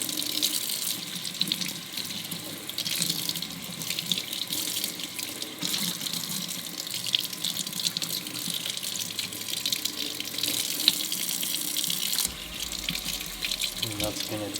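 Tap water runs steadily and splashes as aquarium filter material is rinsed under a faucet, a continuous close gush with a brief change near the end.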